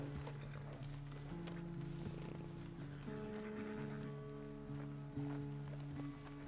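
Horse hooves clip-clopping in the Red Dead Redemption 2 video game, a steady trotting rhythm under a soft game soundscape with faint tonal music, heard at low level.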